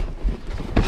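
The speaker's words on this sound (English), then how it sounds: "We got an obnoxious wind today" Low, gusty wind buffeting the microphone outdoors on an Iowa farm in uneven rumbling bursts, with a stronger gust near the end.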